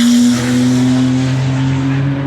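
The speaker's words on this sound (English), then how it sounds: "stupid trucks. Stupid loud exhaust." A truck with a loud exhaust rumbles past nearby, a strong steady low drone that holds and tapers off slightly as it goes by, with no talk over it.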